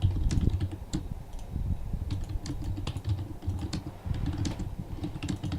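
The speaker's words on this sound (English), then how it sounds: "You're typing very manically right now." Fast, frantic typing on a computer keyboard during an online game session: dense, rapid key clatter runs continuously throughout, close and fairly loud, with no talking over it.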